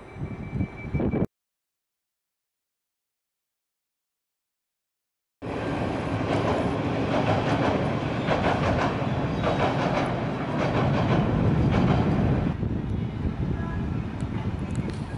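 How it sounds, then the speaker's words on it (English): A passenger train with no locomotive rumbles steadily past at close range as it departs Paris Gare du Nord, with a dense, continuous roar and faint rhythmic clatter after a brief silence. "This train is heading out locoless"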